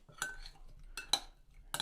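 A metal spoon clinks against a bowl in a few quick scraping strokes while mixing olive oil, salt and other ingredients, close and fairly quiet, with short pauses between.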